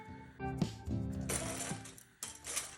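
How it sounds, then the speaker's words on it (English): A sewing machine top stitches the stretchy side of a swimsuit, its motor running in steady mechanical bursts with a brief pause before restarting, close and fairly quiet. "Now when you're gonna top stitch the stretchy side, you're gonna stretch it out and top stitch it as you go along."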